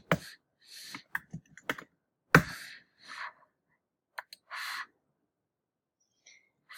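Typing on a computer keyboard comes through as scattered keystroke clusters and short bursts, close and clear, with pauses of silence between them.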